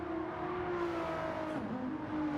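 A race car in Gran Turismo 7 at Watkins Glen holds a steady, droning engine note as it crosses the finish line, the pitch sliding down toward the end, loud and close with no talking.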